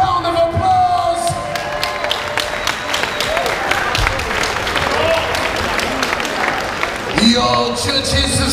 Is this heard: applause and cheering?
yes